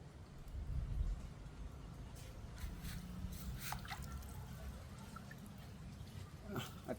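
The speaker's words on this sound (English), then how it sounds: "Blood just splashing in the water." Liquid splashes and drips into water as blood runs off a live chicken being prepared for dinner, a steady wet patter with a few louder splats, close by over a low background.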